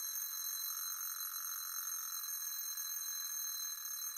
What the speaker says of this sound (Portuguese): o som de hoje foi despertador